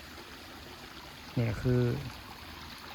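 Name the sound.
mountain waterfall at Ban Na Ang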